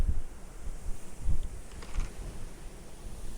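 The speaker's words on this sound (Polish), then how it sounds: "No tak wieje." Strong wind gusts buffet the microphone at a spring fishing spot, a continuous rumbling roar with surging low gusts and no talk.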